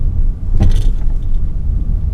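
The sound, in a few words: Peugeot 2008 car driving over a speed bump at 30 km/h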